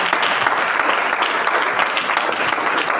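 A church congregation applauding loudly for the Lord, with dense, sustained clapping from a crowd filling the room, continuous and close throughout.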